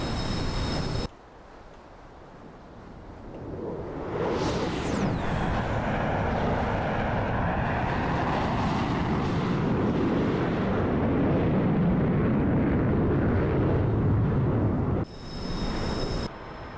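Loud, steady roar of an F-14 Tomcat's jet engines in flight in a video game, a broad sustained rush that builds after a brief quieter opening and holds constant for most of the stretch.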